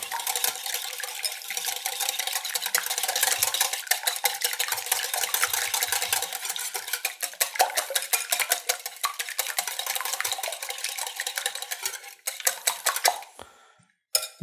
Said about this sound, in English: Now you want to whisk these up till they're well combined.